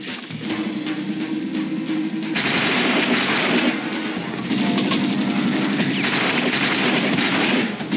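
Sustained automatic gunfire rattles loudly and continuously in the shooter game XIII at Kellownee Lake as the player comes under fire, dense rapid bursts filling the whole stretch without speech.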